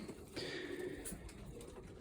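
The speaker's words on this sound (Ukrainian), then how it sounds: "Тут є в цьому е боксі троє білих голубів" Three white pigeons in a breeding box give a faint, brief coo, soft and close, heard alone with light background noise.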